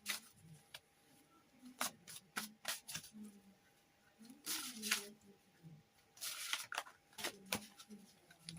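Tarot and oracle cards are handled and drawn, giving scattered close, soft slaps and papery rustles in irregular bursts, with faint voice-like murmurs between them.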